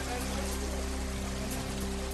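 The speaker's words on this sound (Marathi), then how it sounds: "वर्धा जिल्ह्यात जोरदार पावसाची हजेरी।" Heavy rain falling in Wardha district, a dense steady hiss of rainfall without pause, heard under a constant low hum.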